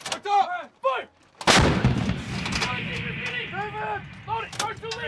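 A U.S. Marines artillery gun fires once during live training, a single loud, sharp blast with a rumbling tail, while shouted commands come before and after it.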